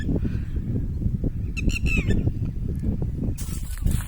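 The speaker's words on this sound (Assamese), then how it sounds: "এইটো চৰাই মাতি আছে চাওক" A lapwing gives a few short, sharp calls at moderate distance in a sunny village, standing out briefly over a low rumbling outdoor background.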